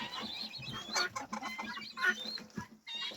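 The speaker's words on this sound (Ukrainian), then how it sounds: "Ці мене тут сидять півники." Roosters cluck softly nearby, a few short bursts of clucking over a quiet background.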